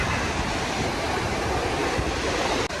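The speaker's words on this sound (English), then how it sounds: "Okay, found the way down to the waterfall." A waterfall on the Bolaven Plateau in southern Laos, in the dry season, gives a steady, loud, broadband roar of falling water that holds constant throughout.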